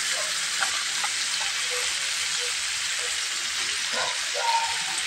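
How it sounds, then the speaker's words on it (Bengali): Snake gourd sautés in spice paste in a pan, giving a steady close sizzling hiss with faint stirring scrapes and no talk. "আমার সবজিটা কষানো হচ্ছে।"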